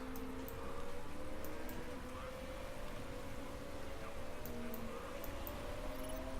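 Steady rain hiss in the Motorsport Manager racing game, a constant soft wash of droplets with faint engine tones gliding underneath, with no talk.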